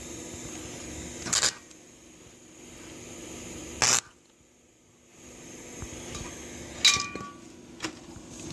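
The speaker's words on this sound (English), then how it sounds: "I have the welding torch today. I'm gonna put a tack" A welding torch tacks a nut onto a broken bolt stuck in an engine head. Three short, sharp crackling bursts are separated by quiet pauses in a still workshop.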